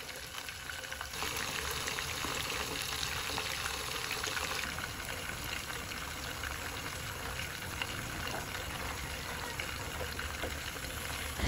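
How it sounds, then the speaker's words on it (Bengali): Chicken meatballs fry in hot oil, giving a steady, dense sizzle that stays fairly loud and even throughout with no talking over it. "আমি তেলটা গরম হয়ে আসার পর চিকেন বলগুলো দিয়ে দিচ্ছি।"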